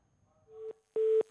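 A telephone busy tone sounds after a call is hung up: two short steady beeps, the second louder, separated by a brief gap.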